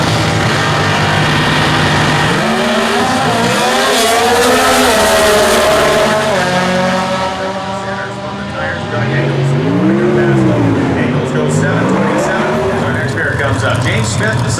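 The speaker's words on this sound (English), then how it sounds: "the D Motor Dragster, 269 cubic inch engine for Engels" Drag racing cars at the US Nationals at Indy, including a D Motor dragster with a 269 cubic inch engine, roaring loudly and continuously as engines rev and shift, with a voice heard over the din.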